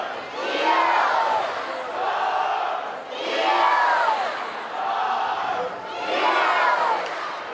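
The crowd at a women's college soccer match on Dorrance Field, Chapel Hill, North Carolina, cheers and roars in loud swelling waves that rise and fall several times.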